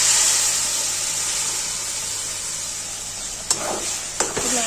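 Spice masala fries in a pan with a strong, steady hiss and sizzle, then boiled chana dal is poured in, followed near the end by a couple of brief clanks of the pot or spoon.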